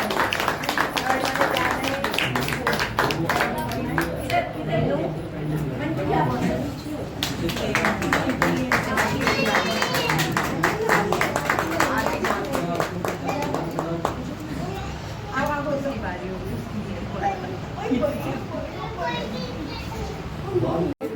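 Children and adults clapping together at a home retirement celebration, with rapid uneven rounds of applause mixed with lively chatter and children's voices throughout.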